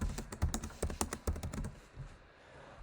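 Text is typed on a computer keyboard into a Photoshop type box, a rapid close run of crisp key clicks for about two seconds before falling quiet.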